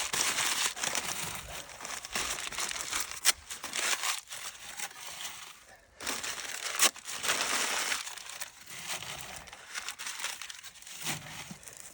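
Cardboard is crumpled and torn by hand to start a fire, giving continuous close, crinkly rustling with short pauses and sharp crackles over about twelve seconds.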